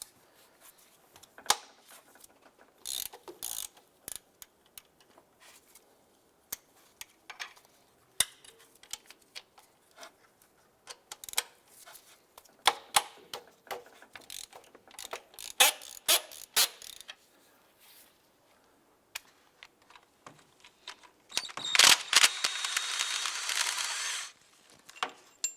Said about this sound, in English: There is a 15mm bolt here and a 15mm nut here. Let's go ahead and loosen these.